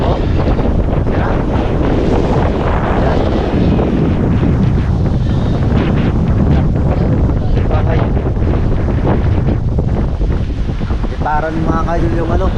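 Strong typhoon wind blasts across a microphone among storm-damaged houses, a loud continuous roar with gusting buffets throughout, while voices are faintly heard underneath.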